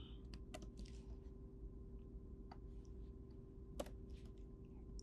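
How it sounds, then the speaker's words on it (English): Keys tapped on a computer keyboard while entering a troubleshooting pattern, a handful of faint scattered clicks over a steady low hum. "let's type that pattern"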